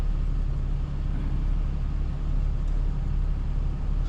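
Cars move ahead in a ferry queue, a steady low engine and road rumble, close and continuous throughout.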